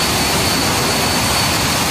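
A jet aircraft's engine in the DCS World flight simulator roars loudly and continuously, a broad, even rush of noise with a faint high-pitched whine on top, nothing else audible.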